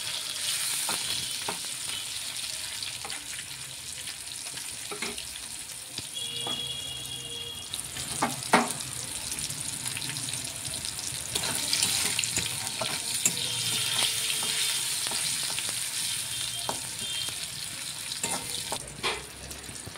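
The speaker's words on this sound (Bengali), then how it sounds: "ভাজা হচ্ছে টমেটোটা।" Tomatoes frying in a pan for a banana-flower curry, a steady crackling sizzle with occasional stirring knocks and scrapes, long and even, with no one speaking.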